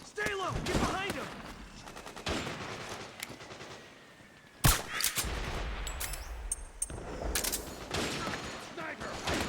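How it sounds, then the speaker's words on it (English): Gunfire in the Metal Gear Solid 4 video game: repeated sharp shots and bursts, including one loud crack near the middle, mixed with game effects and shouting voices. "Gunfire! Sniper!"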